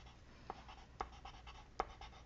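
A watercolor pencil scratches softly across paper while coloring leaves, very faint close strokes with a few light taps.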